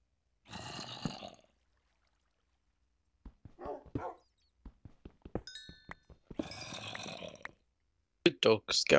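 Dogs in a video game bark and whimper in scattered short bursts, with brief thunks between them, loud against otherwise near silence.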